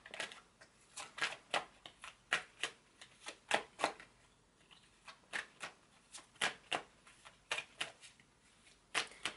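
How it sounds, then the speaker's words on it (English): A deck of cards being shuffled in repeated quick riffles, a steady series of crisp, close flutters with short pauses between them, fairly quiet. "I've recently been inspired to shuffle my decks like this instead"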